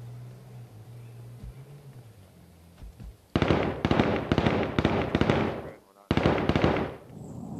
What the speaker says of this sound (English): There's some Molotovs by your feet there, Logan.